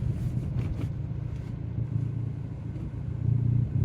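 A tuned Ford Fiesta ST MK7 from Hendy Performance pulling away, a deep steady engine rumble heard from inside the car, swelling slightly toward the end, with no talk.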